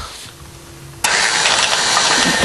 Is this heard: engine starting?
yes